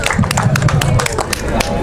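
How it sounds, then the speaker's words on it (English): An audience applauds at a ceremony during an invitational cricket match, with quick scattered claps over a steady low hum and background voices throughout. "a hand of applause"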